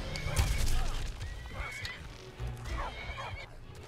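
A horse in the Skyrim video game neighs and whinnies several times, loud and close, with a player talking over parts of it.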